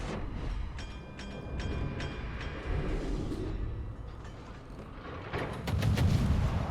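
Naval guns on a stock Tallinn cruiser in World of Warships fire as muffled booms and brief crackling bursts over a constant low rumble, faint and distant.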